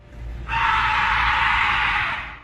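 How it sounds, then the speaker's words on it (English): A bone-chilling scream from an unknown creature in a forest, a loud, sustained, shrill cry that bursts in abruptly and holds steady for about two seconds before tapering off, with no talking. "a bone-chilling scream came out of the forest"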